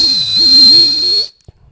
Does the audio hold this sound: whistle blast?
yes